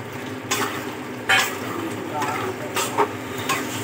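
Spice paste sizzles and fries in hot oil in a home kitchen pan, a steady crackle with a few sharper spits and stirring scrapes, with soft background sounds.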